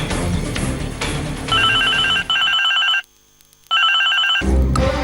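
A mobile phone rings loudly in a home, a repeating electronic ringtone that cuts out briefly and resumes, with background music around it.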